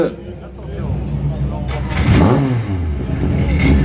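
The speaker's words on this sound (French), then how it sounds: "à 9500 tours dans un moteur atmosphérique, hein, c'est quelque chose" The naturally aspirated engine of a historic rally car revs hard, rising and falling through a sweeping rev climb close by, while a commentator keeps talking over it.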